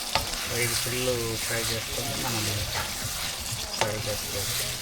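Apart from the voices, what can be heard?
chicken frying in oil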